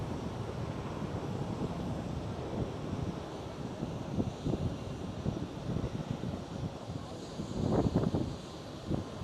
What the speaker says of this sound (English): KLM 737.